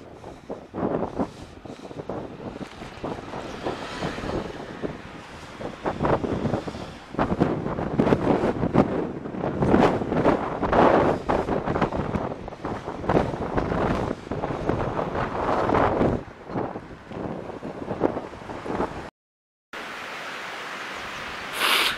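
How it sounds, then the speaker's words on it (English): Strong gusting wind buffets the microphone on a bike ride near Llanfairpwll, a loud continuous roar with surging bursts that cuts out briefly near the end. "the wind is so strong, I can't even risk taking my hands off the bars"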